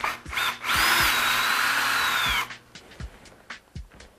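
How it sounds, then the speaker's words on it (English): A power drill whines steadily through a soft aluminum bike part for about two seconds, then spins down, leaving light clicks and handling noises. "Aluminum is fairly soft. It's pretty easy to drill through."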